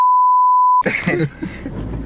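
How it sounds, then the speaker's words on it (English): Single censor beep, a pure steady electronic tone lasting under a second, followed by a burst of talking. "Sponsored by beep."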